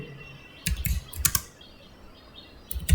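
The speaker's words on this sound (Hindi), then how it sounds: "आप देख पा रहे हैं हम बड़े आसानी से हिंदी में टाइप कर पा रहे हैं।" Computer keyboard typing in two short bursts of key clicks, a quick cluster near the start and another at the end, fairly close and clear over a faint steady room hum, while Hindi text is entered.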